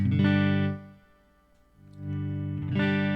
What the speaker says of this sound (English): So starting with the neck pickup. This one here is warm.